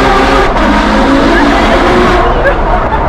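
An 800 hp Ferrari slides while being driven, its engine roaring loud and steady from inside the car with faint tire noise, as people talk over the drone throughout.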